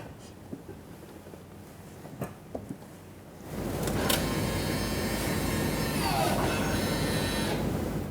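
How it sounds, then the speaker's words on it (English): 2019-2024 Subaru Forester electric parking brake motor engaging and releasing on the rear brakes, a few faint clicks first, then a sustained mechanical whir and grind lasting several seconds. "as I pressed hard on the brake pedal, it activated the parking brake and disengaged it at the same time"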